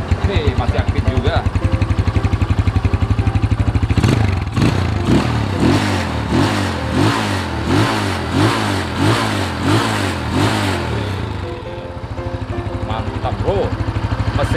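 A 2006 Yamaha Scorpio Z motorcycle engine idles close by with a steady rapid thump, then gets blipped in a string of rhythmic revs for several seconds before settling back to idle.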